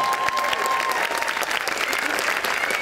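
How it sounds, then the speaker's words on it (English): Audience applause after a film screening Q&A, a dense steady wash of many hands clapping throughout, fairly loud and close, with faint voices mixed in. "So can we have a round of applause?"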